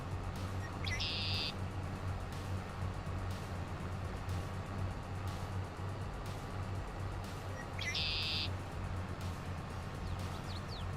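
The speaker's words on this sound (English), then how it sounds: "Chaser, that bird chirping is back." A bird chirps twice in Farming Simulator 22, short bright calls spaced several seconds apart over a steady low engine rumble from farm machinery.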